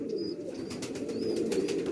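A Teddy pigeon coos in a low, steady drone that runs throughout, close and moderately loud, with a few faint higher chirps over it.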